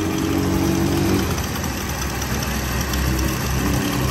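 Honda Wave Thai 110 motorcycle engine idling steadily with its exhaust running, a continuous close, loud low rumble with an even throb throughout and no speech.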